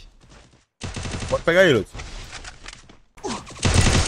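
Gunfire in an online multiplayer shooter video game crackles in short rapid bursts under excited talk from several players, the loudest volley arriving at the end.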